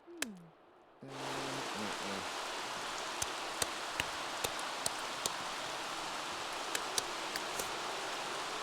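Steady, dense rain falls in The Sims 3, a constant hiss with scattered sharp ticks, following a brief low musical tone at the start.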